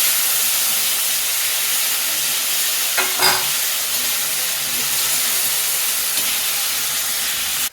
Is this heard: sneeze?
no